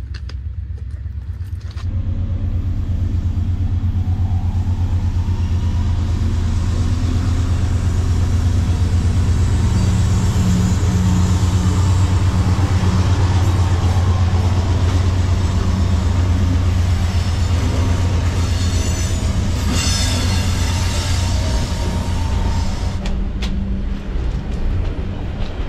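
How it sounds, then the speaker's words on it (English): A train passes close by with a loud, sustained low rumble and roar lasting over twenty seconds, rising to a rattling clatter of wagons near the end. "there's a train coming"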